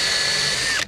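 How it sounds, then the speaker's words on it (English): A power drill with a pilot point bit bores through a workpiece for an outboard engine mount, a loud steady high whine lasting under a second before cutting off abruptly as the bit breaks through. "Now I'm going to drill all the way through."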